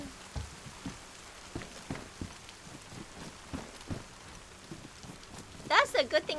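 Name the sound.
rain in a video game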